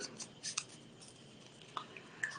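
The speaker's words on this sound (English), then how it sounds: "feeding it through with your scissors when you're doing little shapes like these ones" Scissors snip quietly through scrapbook paper while cutting out small shapes, a few faint, crisp snips scattered irregularly across a quiet background, close to the microphone with no talking.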